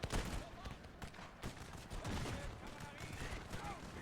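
Musket volleys crackle from a Napoleonic battle in Napoleon: Total War, the Battle of Salamanca, as several bursts of ragged fire, quiet and distant, spread through the clip under a speaking voice.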